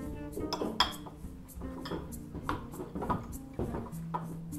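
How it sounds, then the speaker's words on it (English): White rice is served into a bowl with a tablespoon, bringing a run of close dish and cutlery clinks, scrapes and knocks in an irregular rhythm, heard alone without speech. "Put a serving of white rice in a bowl"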